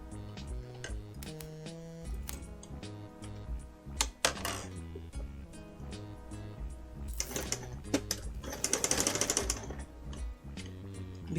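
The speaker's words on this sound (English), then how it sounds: "because I'm sewing something round, I'm making sure to change the direction I'm sewing, like pretty much every few stitches" A sewing machine stitches a round piece in short bursts, its rapid mechanical whirring stopping and restarting every few stitches as the direction changes, close and clear.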